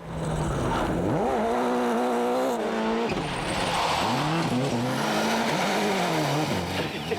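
A World Rally car tears along a rally stage, engine revving up and down through gear changes while the tires squeal and skid loudly, close and continuous the whole time.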